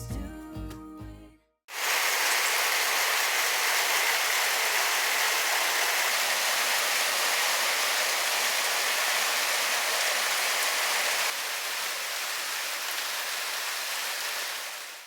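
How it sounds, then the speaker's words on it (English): Rain falls steadily outside as a constant, even hiss of drops that fills the scene, coming in abruptly after a brief burst of music and softening slightly near the end. "So you can see it was still raining, or raining again."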